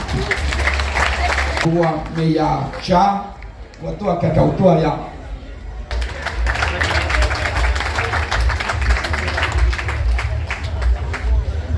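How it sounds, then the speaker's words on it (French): A crowd at the Miss Guyane 2026 beauty pageant breaks into applause. The clapping is heard briefly at the start, pauses under a stretch of amplified announcer speech, then returns as a sustained, full wash of many hands. "Vous pouvez applaudir, mesdames et messieurs."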